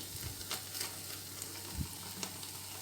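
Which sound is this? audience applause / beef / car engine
beef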